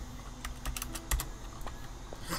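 Rapid clicky keystrokes on a computer keyboard, a quick irregular burst of taps close to the microphone, over steady background hiss during a Dead Island game session.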